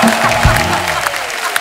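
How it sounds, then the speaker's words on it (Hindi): A TV comedy studio audience applauds at a loud, dense, steady level through the short stretch. A faint voice or cheer is briefly mixed in. "दोस्तों अगर दिल से मजा आया तो दिल से तालियां होनी चाहिए आज।"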